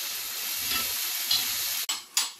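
Ground masala paste fries and sizzles in hot oil for Andhra needle fish curry, with steady stirring scrapes and a brief clatter near the end, no voices.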